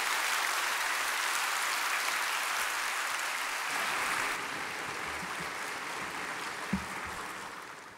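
Congregation in a church sanctuary applauds steadily for several seconds in a broad, even wash of clapping that gradually thins out, heard from across the room at moderate volume.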